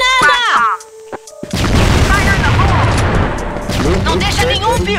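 A grenade blasts in a Portuguese-language tactical shooter match, a loud boom followed by sustained rattling gunfire and clattering over several seconds, with a short voice call and tonal game sounds just before.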